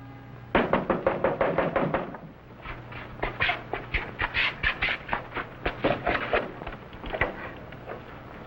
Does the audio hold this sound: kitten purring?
no